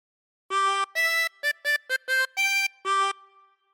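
A harmonica plays the tune of We Wish You a Merry Christmas, a short phrase of eight clear, separated notes, close and solo.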